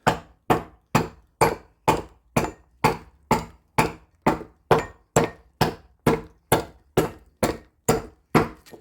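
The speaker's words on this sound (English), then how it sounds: "This is orange, and this adze is taking a beating off of it." An adze carving a bread bowl from hard green orange wood, striking in a steady, even rhythm of about seventeen sharp, close chopping thuds, each with a quick woody decay, with no talk over them.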